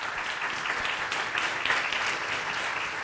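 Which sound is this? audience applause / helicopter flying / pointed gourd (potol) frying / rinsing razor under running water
audience applause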